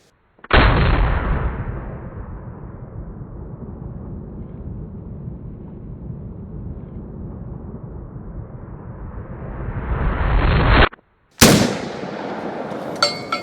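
A Panzer Arms AK-12 Saiga-12 clone shotgun fires at exploding targets set on steel at an outdoor range, one long roaring boom that rumbles for about ten seconds, then a sharp second blast.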